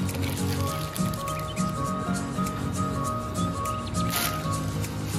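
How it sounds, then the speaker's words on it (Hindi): Yogurt is added to a chickpea-flour and salt masala paste and worked in, giving soft wet squishing and dripping sounds up close, repeated in uneven bursts against a low background hum. "इसके बाद मैंने इसमें डाली है दही"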